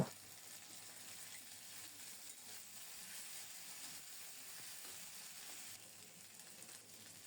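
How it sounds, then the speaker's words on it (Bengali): Ground ginger, cumin and green chilli paste fries over lowered heat with a soft, continuous sizzle and faint hiss, fairly quiet and steady with no voices. "এখন দিচ্ছি বাটা মশলাটা আদা জিরা কাঁচামরিচ চুলার তাপটা একটু কমিয়ে দিয়ে মশলাটাকে খুব সুন্দর মতো কষিয়ে নেব"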